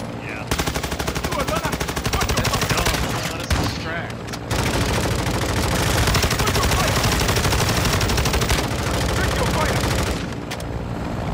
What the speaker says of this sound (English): No, they're not, they're just shooting.